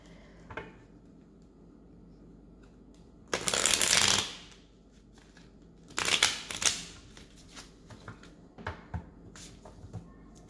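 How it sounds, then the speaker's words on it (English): A tarot card deck is shuffled in quick papery riffles, with two louder bursts of cards flicking together and a few lighter taps and slides between them, close and clear with no talking. "I'm going to shuffle it a little bit and then start pulling out cards"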